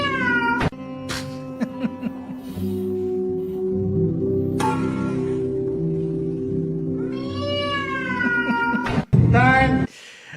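A man imitates a cat, producing drawn-out meows and wavering caterwaul-like cries, loud and close, with a few sharp clicks between calls.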